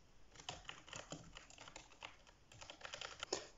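Rapid typing on a soft-sounding membrane keyboard, a Logitech G213, keys pressed in quick irregular bursts, close by and fairly quiet.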